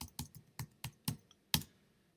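Typing on a computer keyboard: several crisp, close key clicks at an uneven rhythm, fairly quiet, with no voices.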